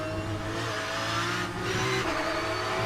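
Porsche 992 GT3 race cars work through the second chicane at Monza, engines revving hard and shifting pitch as they brake and accelerate, a loud, continuous mechanical roar without any talk.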